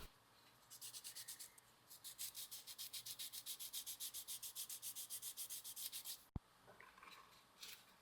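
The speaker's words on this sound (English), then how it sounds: "I'll fill the gaps with glazing putty and then wet sand the seam" Steady back-and-forth wet sanding strokes on a glazing-putty seam, about twenty in an even rhythm close by, ending with a sharp click and some quieter scraping.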